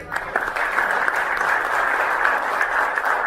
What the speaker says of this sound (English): Ladies and gentlemen, with a huge round of applause